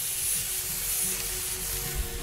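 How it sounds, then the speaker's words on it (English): Meat sizzling on a grill in summer, a steady bright crackling hiss with faint low rumble underneath, continuous and close, no voices. "That is the sound of meat on a grill."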